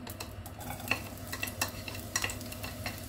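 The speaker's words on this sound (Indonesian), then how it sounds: "Kita tumis dulu ini bawang merah dan bawang putihnya" Shallots and garlic sautéing in oil in a nonstick pan, a steady close sizzle broken by repeated scraping stirs of a spatula, with no voices.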